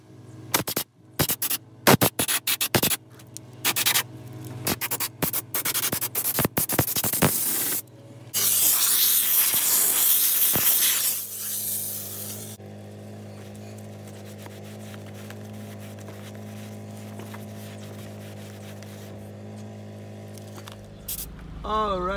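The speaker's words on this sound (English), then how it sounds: "I am gonna use an air gun with a rubber tip to get in there, spray it out." Short bursts of hissing compressed air from a rubber-tipped air gun spray in quick succession while cleaning a car steering wheel, then a longer steady blast, followed by a low mechanical hum.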